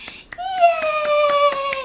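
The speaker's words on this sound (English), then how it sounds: "she will clap when you're super excited and like clapping" An eight-month-old baby girl claps her hands in a quick, steady run of soft pats while a high, sustained childish squeal rings over them, close by.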